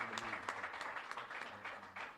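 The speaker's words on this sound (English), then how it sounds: "Let's give him a round of applause as well." Applause from an audience at a community meeting with a branch president, steady dense clapping filling the whole stretch at moderate level.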